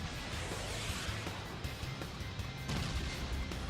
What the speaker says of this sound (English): you drop the bombs on the base